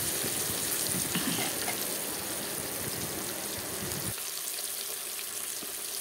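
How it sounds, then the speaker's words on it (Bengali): Pieces of catla fish fry in hot oil, producing a dense, continuous crackling sizzle up close. The sound is louder and busier at first, then settles into a steadier, softer hiss. "এখানে কিছু মাছ ভাজা বসিয়ে দেওয়া হলো।"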